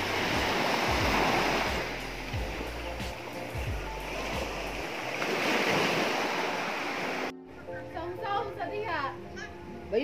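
Sea waves roll onto a beach with a broad, steady wash and wind buffeting the microphone, and people talk over the surf near the end.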